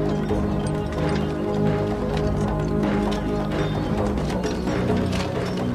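Steady, continuous clip-clop of many horses' hooves, a dense marching procession heard close and at an even level throughout, with no voices over it.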